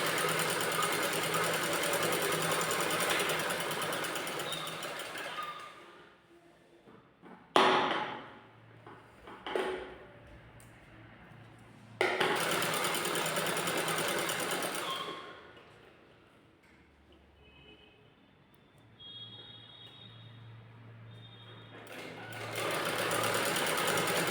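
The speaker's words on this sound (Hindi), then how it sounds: "इस तरह से इस साइड से हमने सिल लिया है।" Sewing machine stitching a net fabric blouse at the shoulder seam, running in steady loud bursts separated by short pauses and a few clicks, with no talking.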